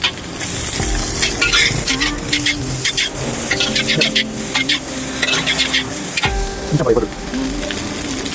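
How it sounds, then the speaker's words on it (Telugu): Cabbage and capsicum stir-fried in a hot pan for egg noodles, loud continuous sizzling with scraping stirs and clinks of a utensil, close up, with faint talk in the background. "మనం ముందుగా కట్ చేసుకున్న క్యాబేజీ క్యాప్సికమ్ లాంటివి ఇవి వేసుకోవాలి"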